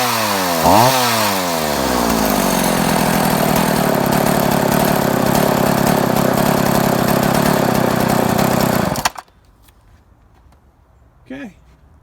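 A Husqvarna chainsaw with a freshly rebuilt carburetor starts with a pull and revs up, then runs at a loud, steady high idle for about nine seconds before cutting off abruptly, leaving near silence and a brief faint sound afterward.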